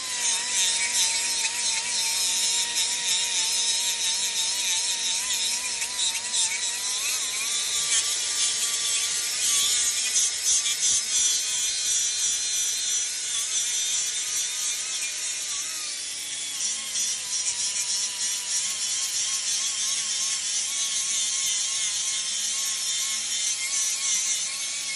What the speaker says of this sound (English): probably just grind it off a little bit with some sanding paper.